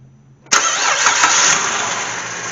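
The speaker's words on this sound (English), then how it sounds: "As you can see, the engine's running" A Cadillac CTS engine cranks and fires after a half-second of quiet, then settles into a steady, loud idle that holds for about two seconds, close by and with no talk.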